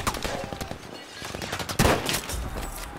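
Sniper rifle fire in Battlefield V: dense, loud gunfire and battle noise run throughout, with a sharp, heavy report near the middle standing out above the steady background fire.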